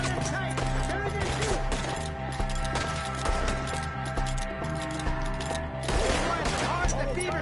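Sustained gunfire in a chaotic outdoor firefight, rapid shots mixed with shouting voices and a dense, loud background of action sounds throughout.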